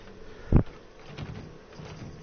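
An attempt to open a locked door in the video game Resident Evil 7, a single sharp thud or rattle followed by faint creaking and muffled scraping.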